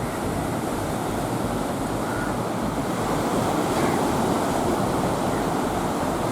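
Ocean surf rolls in continuously at Mirissa, Sri Lanka, a broad steady roar of breaking waves with some wind buffeting the microphone, no voices over it.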